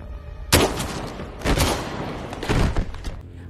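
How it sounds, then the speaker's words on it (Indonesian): Gunfire in a movie action scene comes in three loud, booming bursts of rapid shots roughly a second apart, each with a rumbling tail. "Henry yang langsung menembaki anggotanya Naomi."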